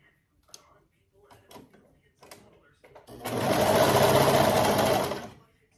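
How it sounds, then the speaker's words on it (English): After some quiet handling noises and faint talk, a sewing machine runs a steady two-second burst of fast stitching along the raw edges of a romper's arm seams, close and dominant before stopping. "I'm going to sew the raw edges together"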